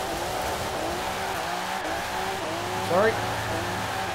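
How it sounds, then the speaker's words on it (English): A car in Forza Horizon 4 rumbles past with steady engine drone and a short tire squeal near the end, while a voice speaks briefly over it. "We're gonna go ahead and let this car go by"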